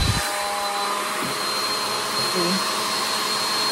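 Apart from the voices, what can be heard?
hair dryer blowing hot air on cellophane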